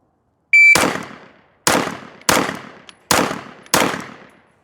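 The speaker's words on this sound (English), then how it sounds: "we're going to shoot the Glock 45 first, then we'll shoot the Glock 19 second" Pistol fire from Glock 45 and Glock 19 handguns at a shooting range: a timer beep, then five sharp, loud shots spaced roughly half a second to a second apart, each with a short decaying echo.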